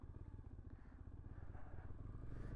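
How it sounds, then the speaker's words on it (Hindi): A motorcycle climbs in low gear at high altitude on a mountain road from Hanle toward Umling La, its engine thumping in a steady, rapid low pulse, faint and labouring, with no talking. "बाइक अभी सेकेंड गियर में भी ठीक से चढ़ नहीं रही है बिकॉज ऑफ द हाइट"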